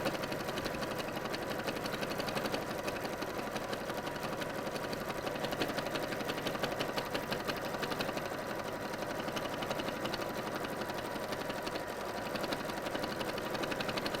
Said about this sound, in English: allow that to just feed back through the machine to sew on the second